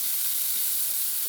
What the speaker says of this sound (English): We're going to use this same pan to go ahead and saute our vegetables.